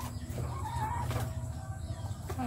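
Chickens cluck softly and continuously while pecking at ipil-ipil leaves, with low murmuring calls close by and a brief higher squawk near the end over a steady background hum.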